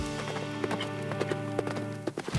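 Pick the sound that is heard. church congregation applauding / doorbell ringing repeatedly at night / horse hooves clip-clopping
horse hooves clip-clopping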